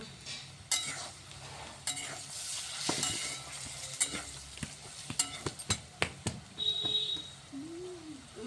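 Tomatoes going into a pan on a home stove, with a steady sizzle broken by sharp scrapes and clinks of a utensil stirring against the metal, close and fairly quiet with no talk.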